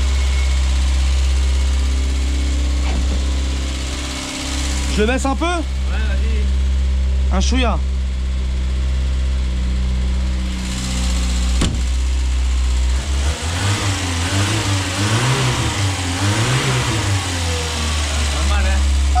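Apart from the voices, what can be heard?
engine revving after carburettor and choke adjustment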